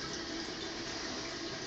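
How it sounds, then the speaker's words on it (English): Toilet tank refilling through its fill valve, a steady unbroken rush of running water at even loudness with no voices. "Toilet's filling up."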